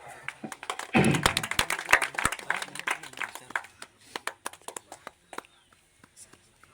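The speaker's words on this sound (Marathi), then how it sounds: "कृपया सर्वांनी जरा टाळ्या वाजवा" Scattered clapping from a crowd at a village underarm cricket tournament ceremony in Konkan, a burst of hand claps that swells briefly and then thins into sparse taps, moderately near, with faint voices in the background.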